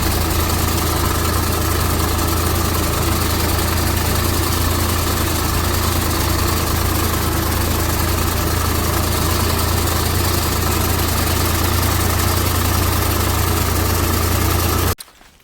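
A farm tractor's engine idles near and loud in a steady, unbroken drone with a low rumble for about fifteen seconds, then cuts off abruptly at the end.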